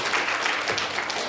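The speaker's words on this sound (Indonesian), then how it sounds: "Tepuk tangan Pak." A congregation claps through a brief burst of applause during a healing prayer service in Bandung, with dense, even clapping close by.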